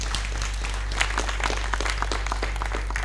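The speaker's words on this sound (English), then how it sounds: "Shall we have a round of applause for Dr. Hassan Ayariga?" Applause for politician Dr. Hassan Ayariga, founder of the All People's Congress, at a 2016 platform event: steady crowd clapping with sharp individual claps over a constant low electrical hum.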